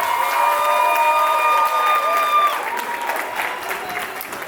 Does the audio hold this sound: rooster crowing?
no